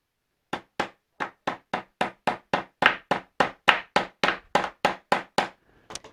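Steady run of about twenty crisp, close taps as a small pin is driven into a painted wooden laundry sign with a makeshift tool instead of a hammer, rhythm even and quickening slightly before ending.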